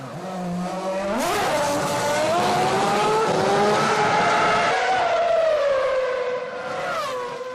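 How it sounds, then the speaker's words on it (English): A 2006 Formula One race car accelerating out of a pit stop, its engine whine climbing sharply in pitch and then holding a loud, high, steady scream close by. "Michael Schumacher started 14th and makes his 2nd pit stop."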